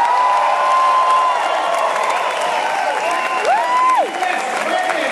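Audience applause and cheering at a Star Trek Beyond fan event, a steady, dense wash of clapping from a large crowd, with sliding tones from a whistle or voice rising over it near the end.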